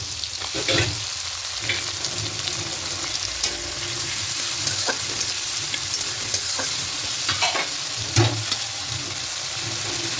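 Chopped tomato frying in a pan for a spicy egg curry: a dense continuous sizzle with occasional spoon knocks and stirring scrapes, close and steady, no talking.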